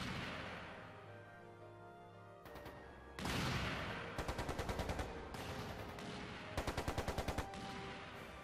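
Gunfire during an assault in the Trails into Reverie video game: repeated bursts of rapid automatic fire with sharp single shots, loud and close, with no speech.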